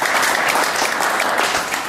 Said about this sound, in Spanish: Fuerte aplauso, lugar 41, José Luis Asensio, señores.